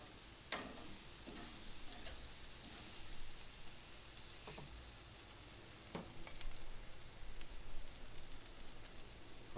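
Thick sausages frying in a pan, a steady close sizzle and hiss with occasional clicks and scrapes as they are turned, no talking.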